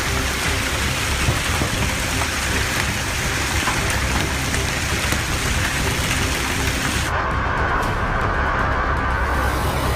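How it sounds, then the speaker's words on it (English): Torrential rain pouring down just after a hailstorm, soaking an outdoor lot of smashed new cars; a steady, dense broadband hiss holds throughout, with the high end thinning noticeably near the end. "Made worse by the torrential rains that followed the hailstorm."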